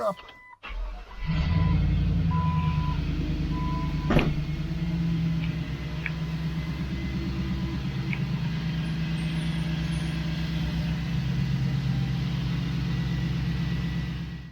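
A pickup truck engine cranking and catching, then idling steadily with a low, even rumble after a transmission cooler install, close by and loud, with a brief clunk partway through.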